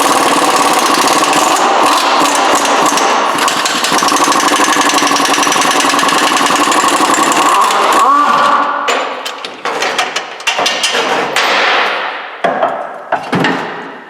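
An impact-style power tool rattles loudly and steadily while loosening the 18 mm lower rear shock bolt on a Chrysler Pacifica, then breaks into short choppy bursts near the end.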